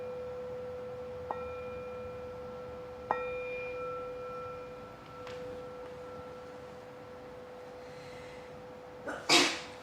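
During a quiet yoga class, a single sharp sneeze bursts out near the end after a stretch of calm near-silence marked by a few soft, ringing chime-like tones.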